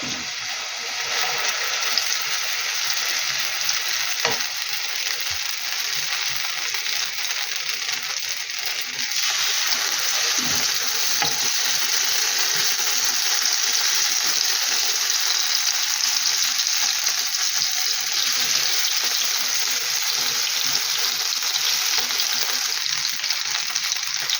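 Loud, continuous sizzle of potato pancakes with cheese frying in oil, with occasional clinks and scrapes of utensils; the hiss steps up partway through and carries on steadily.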